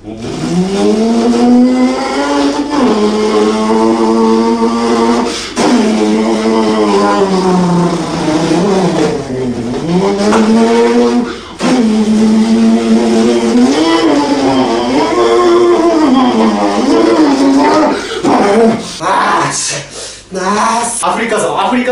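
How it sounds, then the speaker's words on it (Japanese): A loud sports car engine revs up and down repeatedly, its pitch rising and falling in long sweeps, with voices talking over it at times. "スポーツカーの音でまず爆音でこの部屋の中で車乗り回してる風にしてびっくりさせやりたいと思います"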